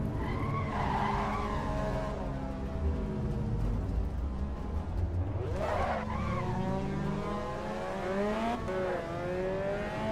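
Car spinning out in the Assetto Corsa Evo racing game, with engine revs rising and falling and long tire squeals and skidding sliding across several seconds, loud and close.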